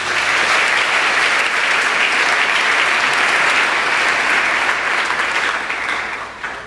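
A church congregation applauds loudly and continuously for several seconds in acclamation of the Lord, a dense wash of clapping that tapers slightly at the end, with a voice faintly mixed in.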